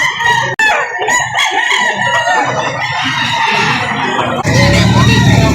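A rooster crows loudly and close by, one long drawn-out cock-a-doodle-doo in a Lipa City, Batangas chicken market, with hens clucking and people talking around it.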